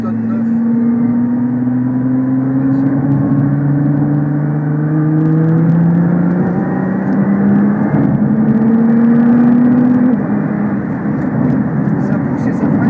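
A Nissan GT-R laps the Val de Vienne race track, its engine droning loudly from inside the cabin as the pitch climbs steadily through the gears, while people talk over it.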